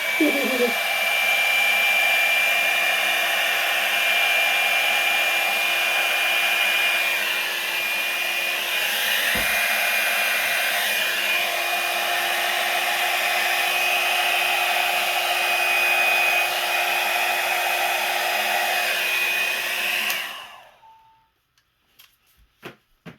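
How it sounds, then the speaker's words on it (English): A small Revlon hot air tool blows continuously for about twenty seconds, a loud steady whirring roar with a high whine, drying paint on a craft background, then it cuts off abruptly into near silence. "I'm going to blow it out with my little Revlon hot air tool."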